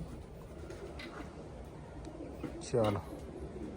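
At a pigeon farm, a single soft coo sounds close by near the end, over a faint, low background murmur that may include distant voices.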